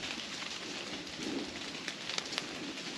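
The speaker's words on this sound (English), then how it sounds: "sounds like it's raining. But what's coming down are these chunks of ice." Chunks of ice break off frozen trees on the Appalachian Trail and patter down like rain, a soft continuous crackle with a few sharper ticks near the end.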